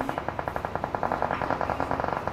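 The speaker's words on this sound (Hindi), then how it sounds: "इधर मेरे तो पीछे बज रही है सबसे ज्यादा गोलियां" Rapid automatic gunfire in a PUBG Mobile team match, a fast rhythmic string of sharp shots at moderate volume, sounding slightly distant and continuing without pause.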